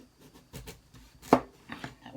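A knife peels the skin off a butternut squash in a few short, close scraping strokes, with one sharper, louder cut near the middle and quiet pauses between.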